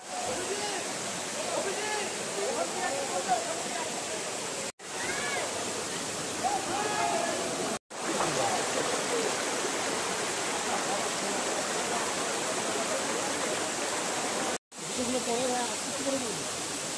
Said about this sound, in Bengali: এই হচ্ছে দ্য ম্যাগনিফিসেন্ট ছাঙ্গে ওয়াটারফলস।